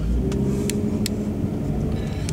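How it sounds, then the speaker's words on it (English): A car rolls slowly over big speed bumps, its engine a steady low rumble close by, with a few faint sharp clicks or knocks on top. "Daddy must go slowly over the speed bumps"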